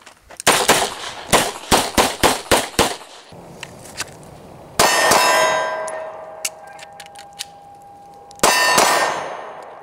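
Gunfire strikes steel targets at a shooting range: a fast string of sharp shots, each with a ringing metallic clang, then a lingering ring and a few more loud shots with clangs.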